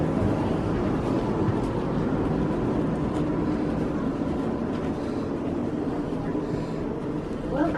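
A London Northwestern Railway passenger train running to Northampton, a steady low rumble of the moving carriage heard from on board, with an onboard announcement voice over it.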